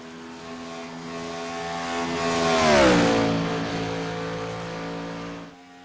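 A race car on an IROC qualifying lap at Atlanta roars past, its engine note rising to a loud peak and then dropping in pitch as it moves away, with no talk.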